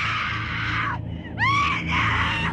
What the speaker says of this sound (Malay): dia terdengar ada bunyi perempuan pekik sekuat-kuatnya